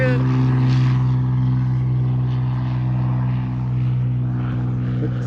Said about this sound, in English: When Jesse really wanted to see her take off.